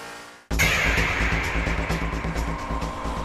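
A 1998 Honda Integra Type R Spec R engine bursts in loud and high-revving at Fuji Speedway, a sustained racing drone with rhythmic pulsing as the car pulls hard on track.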